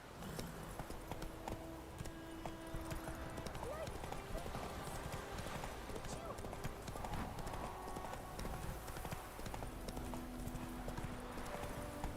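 A horse gallops in the video game The Witcher 3, its hooves making a quick, continuous clip-clop under a voice and game ambience.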